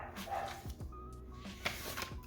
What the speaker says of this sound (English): my neighbor's dog is just doing the most right now